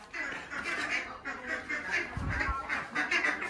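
Ducks quacking at a rural home, a flock giving repeated nasal calls at moderate distance, with people talking over and among them throughout.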